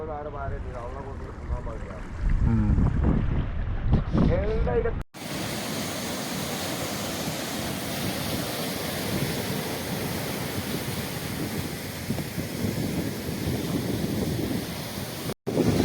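Sea waves roll onto a Kerala beach where people fish, a loud continuous wash of surf with wind noise on the microphone, preceded by a few seconds of nearby talk.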